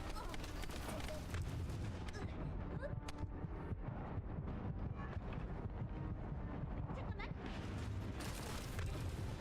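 Dense, continuous gunfire and explosive booms from a shooter video game, The First Descendant, forming a loud, unbroken wall of blasts and crackling shots, with people's voices mixed faintly underneath.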